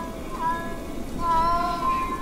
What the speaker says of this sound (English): Soon, cats of every kind and color came to Selina's rescue.